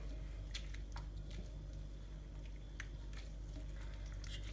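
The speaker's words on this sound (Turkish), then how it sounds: "ve bunları iyice ele, ellerimizle karıştırıyoruz" Salty cookie dough is worked by both hands in a bowl, giving faint, soft squishing and sticky rubbing sounds in irregular bursts against a quiet background.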